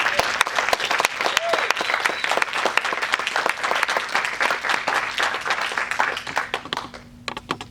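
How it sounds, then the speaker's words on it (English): Audience applause at a film festival Q&A in Barcelona, many hands clapping steadily and fairly close for most of the stretch before thinning to a few scattered claps at the end. "So please, one more time, round of applause."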